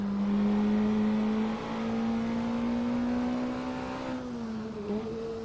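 A sports car engine in Assetto Corsa at Road America holds a steady, loud drone that climbs gradually in pitch, then dips briefly as it shifts and settles again.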